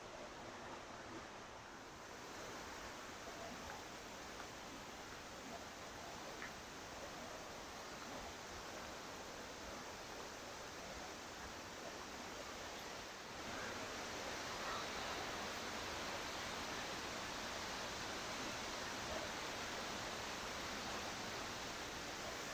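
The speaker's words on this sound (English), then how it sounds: "we arrived at the twin waterfalls. In fact, they are twins." Boti twin waterfalls in Ghana's Eastern Region pour with a steady, broad hiss of falling water, soft and somewhat distant, growing slightly louder toward the end with no talk.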